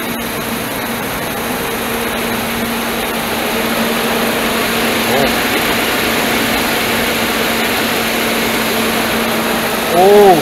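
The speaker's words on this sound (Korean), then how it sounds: "팬 소리가 너무 커가지고" A Dodge Dakota with a 4.7L V8 idles with a loud fan clutch, a steady whooshing drone with a constant hum running under it, fairly close, and someone speaking over it, swelling briefly near the end.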